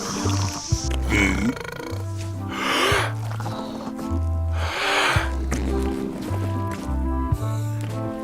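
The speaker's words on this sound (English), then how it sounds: "They're excellent for burping contests." A burping contest in the Return to Monkey Island video game, with several rough, gurgling burps spaced a couple of seconds apart over a bouncy musical backing, while characters talk.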